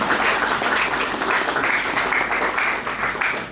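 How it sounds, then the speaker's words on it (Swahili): Audience applause at a women's seminar, a dense sustained wash of many hands clapping, steady and fairly loud throughout. "Mtanisaidia tu kumchapia makofi."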